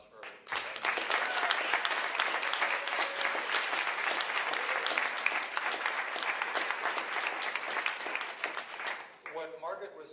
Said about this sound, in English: I'd like to ask for a big round of applause for